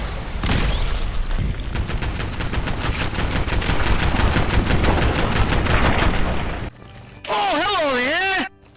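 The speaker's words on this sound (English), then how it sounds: "what better way to do that than to throw a rocket or two at the things?" Rocket launches and explosions against enemies in Fallout 4 sound as loud booming blasts over rapid gunfire, followed by a brief lull and a warbling electronic tone.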